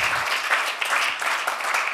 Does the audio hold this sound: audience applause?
yes